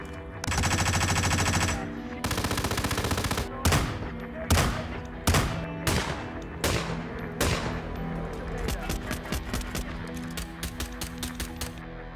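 Rapid bursts of automatic gunfire from a Hitman video game give way to a series of single heavy shots with sharp cracks and ringing tails, loud and close.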